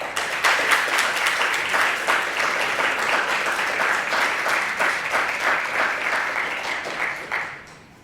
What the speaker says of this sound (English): show your appreciation for those who have supported you with a round of applause